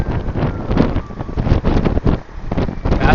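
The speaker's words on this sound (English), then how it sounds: "little bit of headwind here" Headwind buffets a road cyclist's microphone during a national road race, a loud, continuous rumbling roar with gusty surges throughout and nothing else clearly heard.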